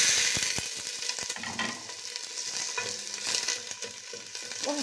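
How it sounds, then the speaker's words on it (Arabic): Onion sizzling in ghee in a pan for a green bean and meat stew, with a loud, crackling fry and scraping, clattering stirring strokes layered on top, heard close up without talk. "وهبتدي اقلب في البصل"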